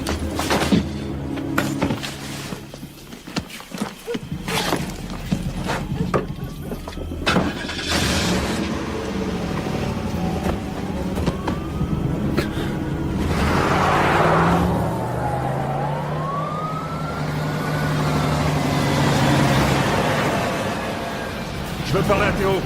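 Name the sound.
car engine starting and driving off, film scene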